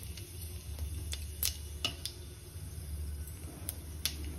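Cumin seeds and dried red chillies dropped into hot white oil give a soft steady sizzle, broken by a handful of crisp spits and pops, with no talk.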